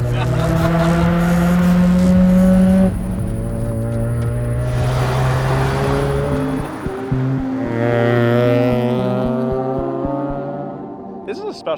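Nissan Sylvia or similar Initial D-style sports car engine revving hard at full throttle, a loud sustained drone with rising and shifting harmonic tones, gear changes audible, with no speech.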